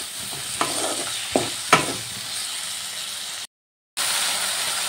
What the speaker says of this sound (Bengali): সব মশলা এবার ভালো করে কষিয়ে নেব